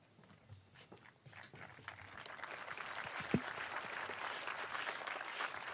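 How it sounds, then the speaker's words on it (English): A graduation audience at a high school ceremony breaks into applause that starts faint and swells to steady clapping, with a sharp knock partway through. "Thank you for that applause."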